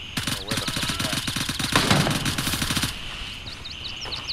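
Rapid automatic gunfire in the shooter game Gray Zone Warfare, a fast regular burst of close shots lasting a few seconds before cutting off, followed by quieter background noise and faint whistling tones.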